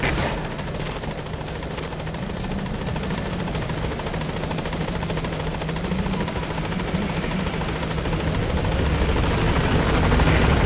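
The Pequod helicopter in Metal Gear Solid V comes in to the landing zone with a steady, loud rotor thrum and engine whine that holds constant and swells slightly toward the end, with no voices.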